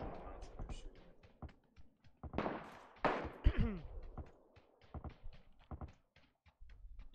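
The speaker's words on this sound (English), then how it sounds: "these guys on the mountain are shooting" Gunfire from players up on a mountain in the battle royale game Ring of Elysium, coming as scattered sharp shots and short bursts at a distance, mixed with game sounds and voices talking.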